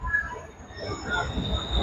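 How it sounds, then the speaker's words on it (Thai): Rumbling train noise inside a busy Thai rail car or station, a low steady rolling with faint squeal, while a voice talks over it. "โอ้เอาบนรถไฟ"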